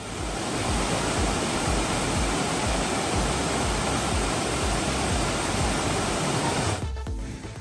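Water from Kainagiri waterfall in Munnar, low in the dry season, rushes in a steady broadband roar that continues without a break before cutting off abruptly near the end.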